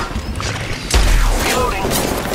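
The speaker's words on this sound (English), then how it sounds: "Reloading!" A weapon reloads during a team deathmatch in Apex Legends Mobile, giving a loud mechanical clack and thump about midway through, set amid busy game noise.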